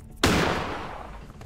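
A single loud gunshot in the horror game Granny: one sharp blast with a long, fading reverberant tail, standing alone with no talking over it.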